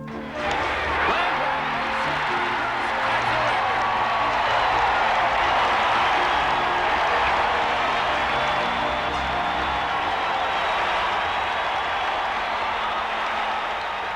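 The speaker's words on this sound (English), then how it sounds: "A standing room only crowd in Cincinnati on its feet" A standing-room-only baseball crowd at a 1985 Reds game in Cincinnati roars and applauds on its feet, a loud, sustained wash of cheering that holds steady for the whole stretch.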